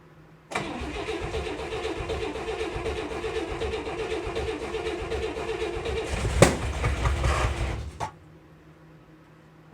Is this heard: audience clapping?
no